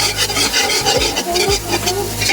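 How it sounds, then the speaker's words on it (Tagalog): Garlic sautéing in a pan, stirred continuously with rhythmic scraping strokes over a steady close sizzle. "Tuloy-tuloy nyo lang yung paghalo hanggang sa maamoy nyo na yung amoy ng bawang."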